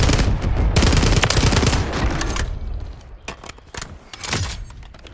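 Heavy automatic gunfire rattles in sustained bursts during a Call of Duty Warzone 2 firefight, loud and close, then breaks into scattered single shots and short volleys.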